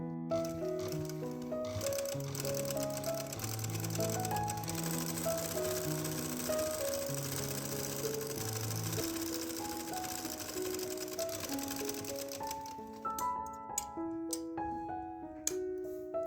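A sewing machine runs steadily while stitching joint lace onto a kurti sleeve, its whirring partly buried under melodic background music, then stops near the end, leaving a few scattered clicks.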